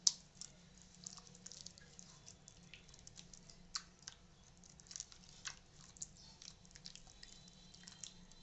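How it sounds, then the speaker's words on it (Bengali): Bare hands work mustard spice paste into pieces of rohu fish, making faint, wet squishing and soft dabbing sounds in a quiet, uneven rhythm close by. "এবার একটা একটা করে মাছের ভিতরে মশলাটা সুন্দরভাবে মাখাবো।"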